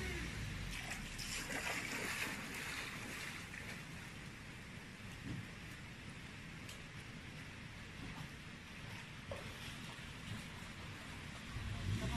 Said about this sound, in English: a wall of water swamps the coastline